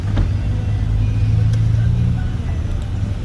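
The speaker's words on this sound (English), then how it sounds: "I'm inside the Uber" Low, steady engine rumble and road noise from inside an Uber car driving through the city of Vitória, Brazil, continuous and close throughout with occasional faint ticks and light background sounds.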